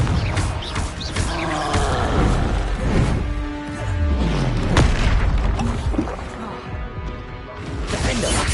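Confringo fire spell blasts in the Hogwarts Legacy video game, loud booming explosions and crashes layered over dense game action and music, repeating throughout.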